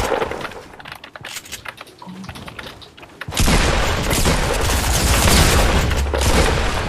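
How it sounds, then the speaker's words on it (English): Fortnite SMG fire bursts out as a loud, dense, continuous stream of rapid shots, close and harsh, after a stretch of quieter clicking and game noise. "He hits like all his SMG shots."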